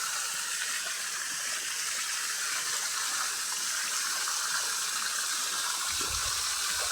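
Water pours steadily from a small outlet in a farm field channel, a continuous close splashing gush that stays even and alone for the whole stretch.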